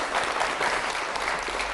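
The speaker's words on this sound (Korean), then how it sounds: "박수 부탁드릴게요" Brief burst of congregation applause in a church, dense even clapping from many hands heard close and full for under two seconds.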